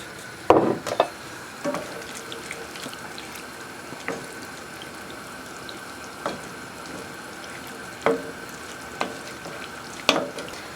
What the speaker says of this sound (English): I'm just going to let this kind of simmer together